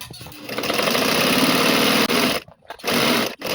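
A sewing machine stitches dress pants in a fast, even mechanical whir, loud and close. It runs steadily for about two seconds, stops briefly, then resumes in short bursts with pauses in between.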